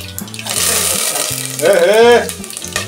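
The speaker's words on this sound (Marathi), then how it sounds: "तडका लगा दिया." Asafoetida, cumin and mustard seeds hit hot oil for a tadka, giving a steady bright sizzle and crackle with a low musical tone underneath and a brief rise in the middle.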